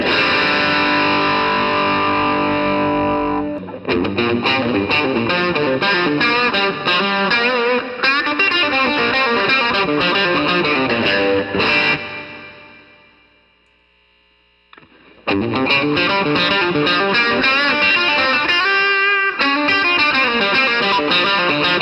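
A Fairfield Circuitry Barbershop Millennium Overdrive guitar pedal drives sustained, gritty electric guitar chords and notes, loud and close, with a brief drop to near silence partway through before the overdriven playing returns.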